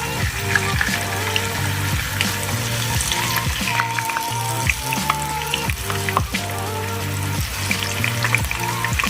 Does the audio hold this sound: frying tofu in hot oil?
yes